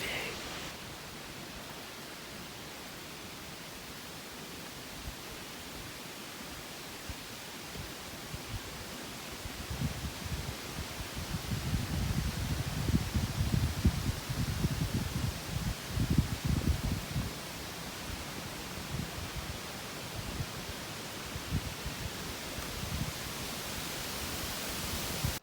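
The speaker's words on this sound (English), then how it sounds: "Very windy day." Wind rushes and buffets in a broad, steady roar through northern Michigan woods, swelling into stronger gusts midway before easing back to a constant blustery hiss.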